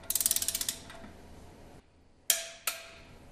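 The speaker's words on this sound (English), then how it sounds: "Tighten the bottom bearing holder using a torque wrench." A torque wrench tightens the bottom bearing holder of a separator's driving device during overhaul. It gives a fast run of about a dozen ratchet clicks, then a pause and two sharp metallic clicks, close and clear with no talk.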